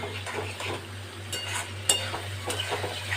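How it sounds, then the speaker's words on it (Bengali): Potatoes and eggplant are stir-fried with spices in a pan for a Bengali fish curry, a soft sizzle with intermittent scraping and stirring strokes of a spoon against the pan, moderately close under a steady low hum. "মশলার সাথে এগুলোকে একটু ভালো করে এবারে কষিয়ে নেব"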